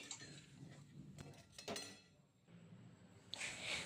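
Catla fish and soybeans are stirred with spices in a pan, giving quiet scraping and light metallic clinks through a faint frying hiss, with a brighter clatter at the end; no one speaks.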